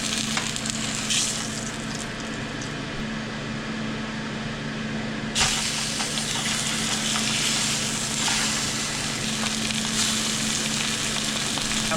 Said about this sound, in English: I got 4 more pieces to fry